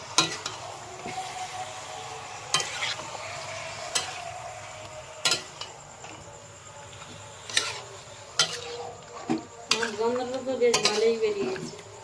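Chicken with ginger garlic paste stirred in a pan over a coal fire, a soft steady sizzle broken by scraping spatula strokes and light clinks against the metal, busier toward the end.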